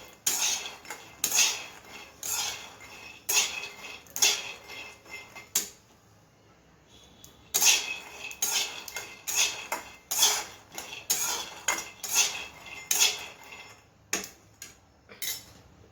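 Peanuts dry-roasting in a pan on a gas stove, stirred with a spatula in steady rhythmic bursts of rattling and scraping, close and fairly loud, with one brief quiet pause midway.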